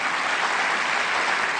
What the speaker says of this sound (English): Cleavon, I'm applauding for you here.